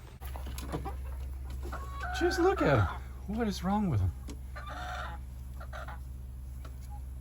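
Chickens cluck and cackle in short bursts over a steady background hum, and a person speaks briefly nearby.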